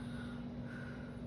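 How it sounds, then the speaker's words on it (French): Oven convection fan running in a kitchen, a faint steady hum with a low tonal whir under soft broadband noise, constant throughout the short moment. "Oh, mon four, j'entends une convection en arrière, fonctionne encore."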